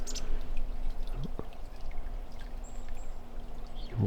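A small stream trickles and rushes steadily and close by, a continuous watery wash with a few faint bird chirps above it.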